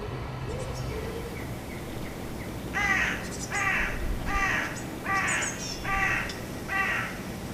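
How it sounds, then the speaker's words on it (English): A crow on a distant chimney pot gives a series of six hoarse caws in an even rhythm, heard from a moderate distance through double-glazed windows over faint background noise. "The first bird of the day is a crow on a distant chimney pot."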